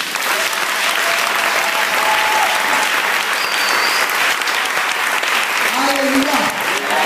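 A church congregation at a Sunday service breaks into sustained loud applause, the dense clapping of a crowd filling the room steadily, with voices mixed in.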